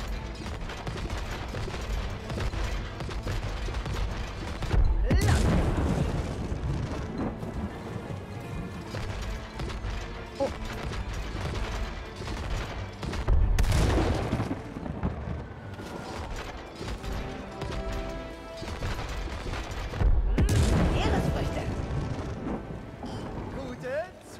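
Ship cannons in the video game It Takes Two boom in three heavy blasts several seconds apart, set against a dense rumbling game soundtrack.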